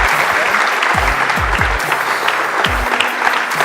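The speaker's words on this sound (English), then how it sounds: "Let's give the guys a big round of applause." Conference audience applause at a real estate event, a loud, steady burst of clapping from a large crowd with a few low thumps mixed in.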